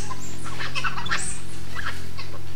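Assamese macaques calling excitedly, giving a loud run of high, squawking, gobble-like cries in quick bursts, close and alone with no talk.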